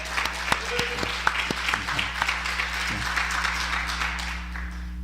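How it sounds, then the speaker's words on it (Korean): A church congregation at a Sunday service breaks into warm applause, a dense run of clapping with a few sharper individual claps standing out, steady for several seconds before tapering off. "하나님 앞에 영광의 박수 올려드리겠습니다."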